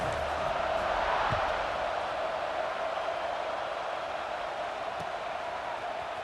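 A crowd at a video game college football kickoff roars in a steady, distant wash of cheering that holds evenly throughout, with no voices over it.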